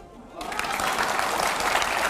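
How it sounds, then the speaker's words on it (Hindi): An audience breaks into applause after a short quiet moment, dense sustained clapping that stays loud and even to the end. "अब यहां पर जो तालियां बज रही हैं"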